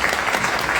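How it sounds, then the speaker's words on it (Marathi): Loud, dense applause from an audience at a Star Pravah television launch event, honouring business head Satish Rajwade, a steady burst of clapping with no talk over it. "यांच्यासाठी सुद्धा जोरदार टाळ्या झाल्या पाहिजेत"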